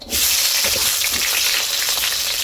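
Onion and garlic hit heated oil in a wok and burst into a loud, close sizzle that starts suddenly and holds steady, with faint crackles throughout. No one talks.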